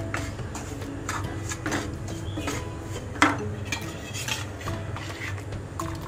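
Amaranth (rajgira) flour being stirred and roasted in a pan for a sweet halwa, with steady scraping and light metallic clinks of the spoon against the pan, close and moderately loud throughout.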